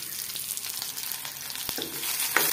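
Spices and turmeric fry in hot oil alongside onion and ginger-garlic paste, giving a loud, steady, close sizzle with a few sharp spatters and stirring taps.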